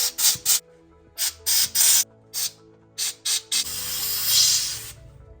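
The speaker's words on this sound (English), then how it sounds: "I'm gonna use air here and blow it out, make sure it's dry." Compressed air blowing out the stud holes while modifying a 1957 Chevy 1300, heard as a rapid series of short, loud, hissing bursts followed by one longer continuous blast, with no talk.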